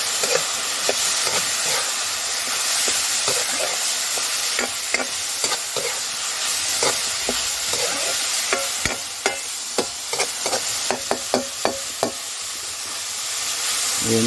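Yard-long beans and egg, lightly salted, sizzle loudly in a pan while a utensil stirs and taps against the metal in quick, repeated clicks, with the clatter growing busier toward the end.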